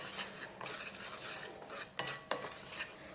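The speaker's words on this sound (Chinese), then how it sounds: "充分的混合均匀" Flour, baking powder and baking soda are stirred together in a bowl for steamed buns, giving soft, close rubbing and scraping strokes with a few sharper clinks, fairly quiet.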